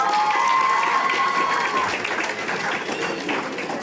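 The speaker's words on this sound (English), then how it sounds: "Give them a round of applause, please." An audience claps at the end of the first round of a French spelling bee, loud steady applause with a crowd murmur, starting over a lingering tone and fading slightly toward the end.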